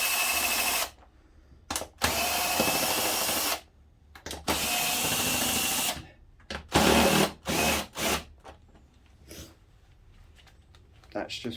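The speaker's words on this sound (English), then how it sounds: "I just come in with the drill, just makes it nice and easy for me" A cordless drill spins out 10mm bolts on a Kawasaki ZX6R motorcycle during a service, with several loud whirring bursts of a second or two separated by short pauses, then choppier, brief spins near the end.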